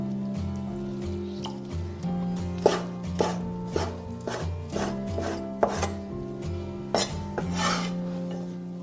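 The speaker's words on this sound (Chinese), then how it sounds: "那接下来我们把香菇给它切成丁儿" A knife dicing soaked shiitake mushrooms on a cutting board, a series of irregular close knocks over steady background music, with no voices.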